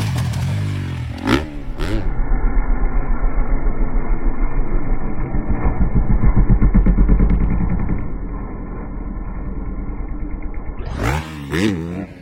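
A motorcycle engine runs steadily close by for about nine seconds, a low throaty idle with a slight rise as the throttle is pressed, framed by brief clatter and movement before and after.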